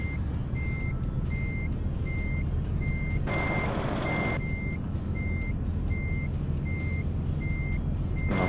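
A truck reverses in American Truck Simulator, its backup alarm beeping steadily at an even rhythm over a constant low engine rumble, with a brief hiss burst partway through.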